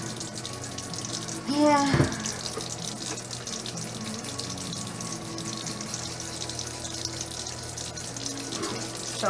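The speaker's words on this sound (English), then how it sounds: "I'm just gonna let my cutting board soak here" Tap water runs into a kitchen sink to soak a cutting board, a steady splashing flow with a brief louder gush early on, and a short spoken word in the clip.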